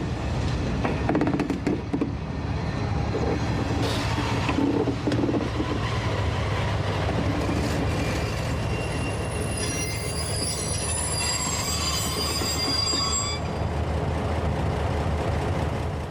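Panoramic railcar X 4208 braking as it enters Sambadel station, wheels squealing in shrill, sustained high tones over a loud rumble and clatter of the running gear, growing stronger toward the stop.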